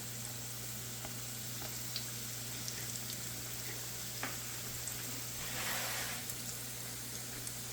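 Steady, soft sizzling of egg rolls frying in hot oil, with faint pops and crackles and a low constant hum underneath.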